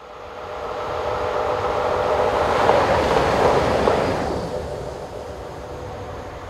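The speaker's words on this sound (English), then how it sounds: "Heading south through the station at just after 7 AM are freight locos 1323 and 1317" Freight locomotives 1323 and 1317 rumble through a Belgian railway station in the early morning, a steady broadband roar swelling to a peak mid-pass then fading away, with no voices.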